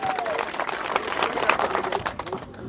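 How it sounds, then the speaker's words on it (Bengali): A crowd at a political rally claps in dense, steady applause that fills the whole stretch, loud and close, fading slightly at the end. "একটা হাততালি"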